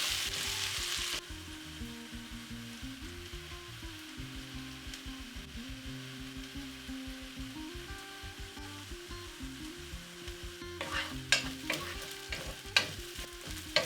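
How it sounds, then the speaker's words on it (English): Onions frying in vegetable oil in a pan for chicken tikka masala, a steady close sizzle over a low background hum, with a few sharper crackles and stirring scrapes near the end. "Cook the onions until they slightly start browning."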